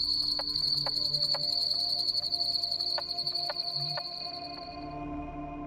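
Carpenter frogs calling in a swamp, a series of sharp, woody knocks like hammer blows on wood, spaced irregularly over a steady chorus of insects and other frogs, with no talk.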